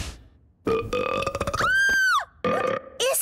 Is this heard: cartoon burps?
yes